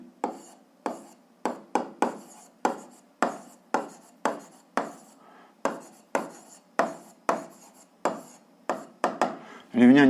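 A pen or chalk scratches out a line equation in a seventh-grade algebra lesson, a close run of about twenty short, evenly paced writing strokes, with a brief louder sound at the very end.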